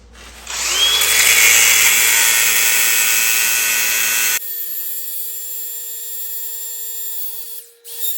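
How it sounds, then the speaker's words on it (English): An angle grinder cuts through the steel side links of a tractor tire chain, a loud sustained high-pitched whine that runs for about four seconds, then the disc spins down with a fainter fading ring. "I'm gonna get the grinder here. I gotta cut a few chunks out of these side links"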